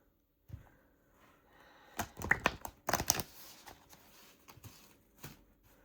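Cards riffle together in a couple of quick crisp bursts, followed by light scattered taps, close up in a quiet room.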